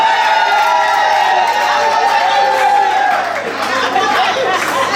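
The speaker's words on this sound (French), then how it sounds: "On acclame très fort." Wedding guests cheer and acclaim loudly together, a dense crowd roar of shouts and voices close by that keeps going throughout, easing slightly near the end.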